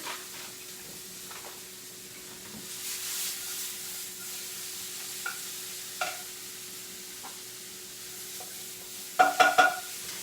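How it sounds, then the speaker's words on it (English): Low, steady sizzle of onions frying in a pan with a few soft stirring scrapes, ending in a brief cluster of sharper clinks. "Ooh, I hear the onions."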